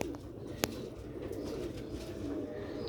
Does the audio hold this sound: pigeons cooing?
yes